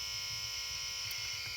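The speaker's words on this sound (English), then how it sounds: "we'll hear the noise through the EMI line monitor there" Mains interference noise from a faulty power adapter, heard through an EMI line monitor as a steady harsh electrical buzz with a strong high whine, constant and unbroken across the short stretch.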